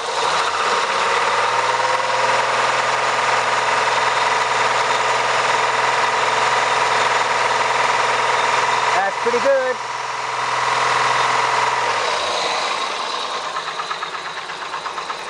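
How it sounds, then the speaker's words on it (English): A car engine held steady at around 2000–2500 RPM during a water pump pressure test, a loud continuous mid-range drone that sounds a bit rough, dropping off near the end, with brief speech over it. "run the engine somewhere between 2000 and 2500 RPM"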